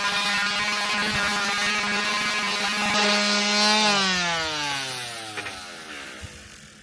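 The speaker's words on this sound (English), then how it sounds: "now we're going to get to grips with sandpaper and the sander and just get those little stubborn bits of paint off" A small power sander works paint off Harley Davidson Sportster 1200 parts, its whining motor droning steadily before the pitch slides down as it spins to a stop.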